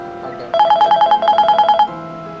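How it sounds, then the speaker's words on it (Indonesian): A telephone bell rings in a quick repeated double-burst pattern, loud and close, with a hum of background noise before and after the rings. "Ada telepon."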